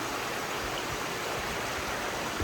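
A babbling mountain stream in a gorge in the Northern Carpathians in Slovakia, a dense continuous rush and gurgle of water, steady and close, with no voices.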